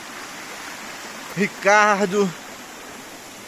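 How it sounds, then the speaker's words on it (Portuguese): Waterfall in the Vale Verde area of Caparaó National Park, a steady broadband rush of falling water running through the whole stretch, with a person's voice briefly calling out over it. "A quedinha. Cachoeira."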